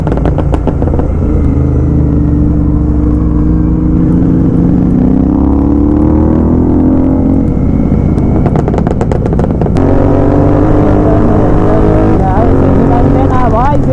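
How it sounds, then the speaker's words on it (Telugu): Loud GT aftermarket motorcycle exhausts roar continuously at an off-road track, the engine pitch rising and falling with repeated revving, close and dominating throughout. "అంత లౌడ్ ఉన్నాయి 3 GT ఎగ్జాస్ట్"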